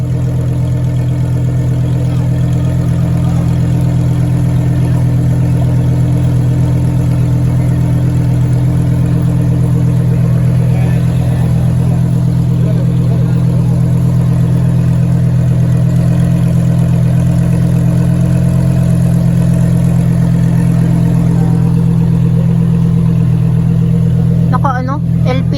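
A sports car engine at a Sunday morning gathering in BGC idles and revs through its muffler, a loud, steady low rumble throughout with people talking nearby.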